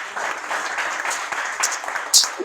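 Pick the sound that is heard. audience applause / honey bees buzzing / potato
audience applause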